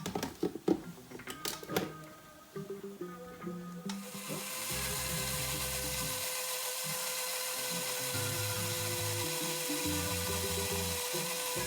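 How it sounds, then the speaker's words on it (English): A blender whirs through seamoss gel with water at home, starting with clattering handling and a switch-on, then a loud steady motor drone that shifts pitch in stages as the speed changes, with no voices. "blending this should take approximately 5 minutes, depending on the type of blender you have"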